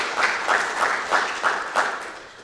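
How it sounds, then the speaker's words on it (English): Audience applause welcoming five panelists at an innovation-at-work panel discussion, a steady wash of clapping from a roomful of people with rhythmic swells roughly every half second, no talking. "let's give a round of applause and welcome our 5 panelists"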